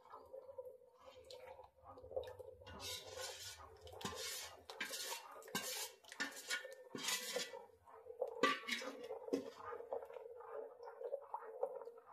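Spoon scraping and knocking inside a pot while rice flour batter for papad is stirred constantly over heat, giving close, irregular metallic clinks and scrapes in bursts over a quiet background.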